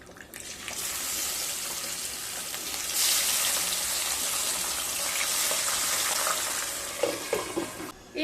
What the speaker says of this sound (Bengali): এইভাবে সমস্ত মাছগুলোকে ভেজে নেব।